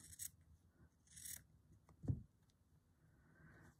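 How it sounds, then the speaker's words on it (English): Scissors trim the top off a piece of fabric, giving a few short snipping and rubbing strokes followed by one firmer close cut, with quiet pauses in between. "I know I need to cut that at the top. So let's get that height trimmed off."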